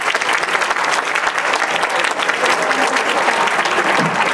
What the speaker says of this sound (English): Let's give a big round of applause for this kid.